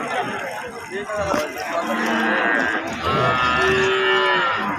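A four-toothed Friesian cow and her calf moo at a rural livestock market in Dinajpur, long lowing calls rising over a busy background of voices and bustle.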